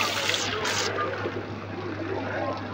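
Small water sprinklers at a temple entrance give off a continuous, fairly loud hiss of spray, steady throughout and heard without any talking.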